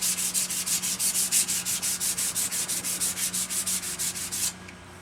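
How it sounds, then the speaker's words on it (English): 220 grit sandpaper is rubbed back and forth over a carbide woodturning tool in about twenty steady, close, raspy strokes. The sanding then stops abruptly. "220 grit sandpaper."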